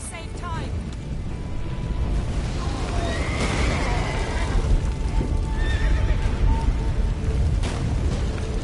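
A horse in the video game The Witcher 3 whinnies and hooves clop amid a loud, noisy rumbling background, with voices faintly mixed in.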